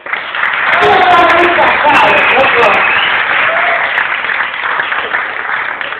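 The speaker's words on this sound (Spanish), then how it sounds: "Un aplauso." Audience applause fills a venue, a dense, loud, continuous wash of clapping holding for about six seconds, with voices mixed in underneath.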